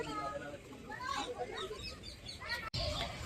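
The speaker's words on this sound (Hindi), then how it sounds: "ये सब पेड़ पर सिर्फ तोता भरा हुआ है, बहुत सारा साउंड कर रहा है तोता" A flock of parrots fills the trees at Sabarmati Ashram with a busy chorus of overlapping squawks and chirps, and people's voices mix in with the birds.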